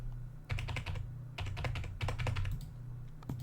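Rapid clicking keystrokes on a computer keyboard in a quiet room, typing in close bursts with brief pauses and no talking.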